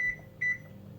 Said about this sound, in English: So I'm just going to preheat the oven to